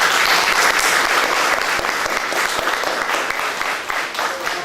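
An audience in an auditorium at a literary evening claps loudly and steadily, a dense, continuous applause that fades a little toward the end.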